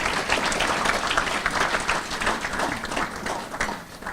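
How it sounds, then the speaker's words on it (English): Steady applause from an audience at a sports hall of fame ceremony, dense clapping holding at an even level throughout with no talk over it. "I'd like to give her a round of applause for all the work she did."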